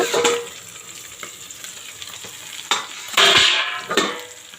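Fish frying in a pan for a Malayalam style fish fry, soft crackling sizzle with several sharp clatters of stirring or turning, close and moderately loud.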